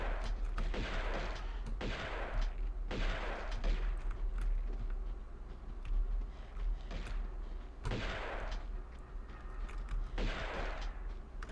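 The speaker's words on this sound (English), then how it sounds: "I'll try to take out one with the shotgun" Shotgun blasts in Tomb Raider II boom out one after another at a steady pace, roughly every one to two seconds. Each shot is loud and sharp with a short tail, set against constant background noise.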